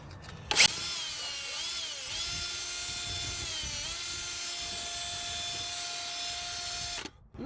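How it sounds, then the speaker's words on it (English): A power tool whines steadily while working on Jeep wiring, a loud, close, high-pitched motor drone that dips in pitch under load a few times, then stops abruptly after a sharp click at the start. "If you can't do it with hand tools, switch to power tools."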